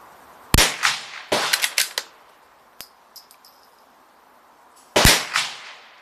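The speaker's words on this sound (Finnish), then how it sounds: "Ammutaan pari laukausta, niin emme pelkäksi höpöttelyksi koko ajan." Three sharp rimfire reports from a Ruger Precision Rimfire rifle, spaced a few seconds apart and each followed by a short echoing tail, with faint mechanical clicks between the second and third shots.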